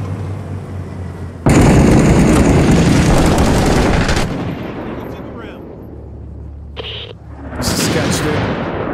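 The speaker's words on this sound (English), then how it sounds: "mortars are right around the corner here" Mortar blasts and gunfire in the combat shooter Six Days in Fallujah: a sudden loud explosive roar that rumbles for several seconds, fades, then sharp bursts of shots follow, with voices mixed in.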